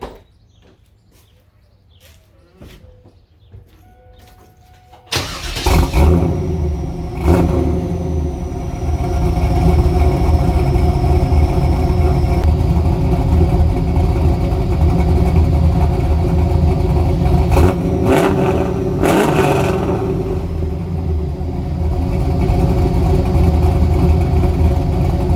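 A 4th-gen LT1 Camaro Z28 30th Anniversary with long tube headers, quiet clicks at first and then a sudden start into a loud, deep rumbling idle that holds steady, with a couple of sharp blips partway through.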